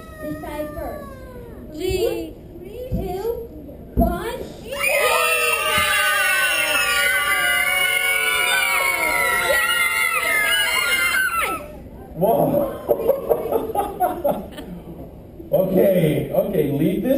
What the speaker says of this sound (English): I heard just screams.